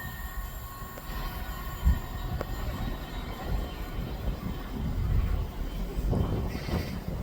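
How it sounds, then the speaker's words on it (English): A CrossCountry Voyager diesel train passes through a station, a fairly faint, steady rumble of engine and wheels with occasional light rail clatter and squeal, heard from some distance. "From Edinburgh to Plymouth via Bristol Temple Mead, cross country voyager."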